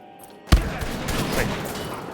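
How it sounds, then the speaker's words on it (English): A double-barreled semi-automatic combat shotgun in Wolfenstein: The Old Blood, a video game, fires one heavy blast after a quiet start. A dense, rumbling wash of game noise and echo rolls on loudly to the end. "Heavy and very powerful double-barreled semi-automatic combat shotgun. The weapon fires from alternating barrels for increased rate of fire."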